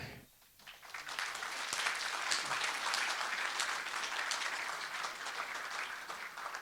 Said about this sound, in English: A vigorous clap, absolutely.